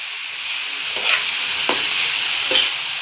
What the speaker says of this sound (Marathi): मस्त अशी परतून घ्यायची कोथंबीर आता तेलामध्ये